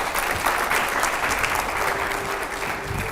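A studio audience at a televised Hindi news debate show bursts into loud, sustained applause, dense steady clapping filling the whole stretch with a faint voice underneath.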